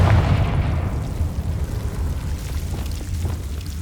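Confringo fire spell blast in Hogwarts Legacy: a loud, deep boom that bursts at once and rolls off into a long rumbling decay, with no voices over it.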